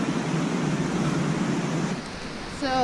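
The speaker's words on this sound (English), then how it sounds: "This is Cherokee Falls." Cherokee Falls in Cloudland Canyon roars as a dense, continuous rush of falling water, loud and close, with a brief dip and a faint voice-like tone near the end.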